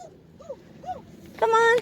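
A pet dog on an outdoor walk gives a few soft rising whimpers, then a longer, louder whine toward the end, close by with faint background noise.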